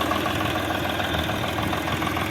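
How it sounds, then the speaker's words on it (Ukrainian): A three-cylinder tractor engine runs smoothly at a steady idle, close by and alone, with an even, continuous rumble and no change in pace. "Їде тихесенько, моторчик не сапонить."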